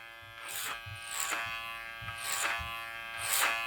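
Electric hair clippers buzz close by while cutting a taper haircut, blending the sides with a 3.5 guard in short repeated passes that brighten and fade as each stroke goes through the hair.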